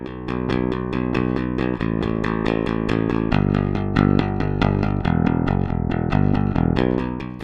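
A Fender Jazz Bass plays a steady run of plucked notes, full and punchy with a bright, grindy, narrow mid-range edge, continuous and close with no voices.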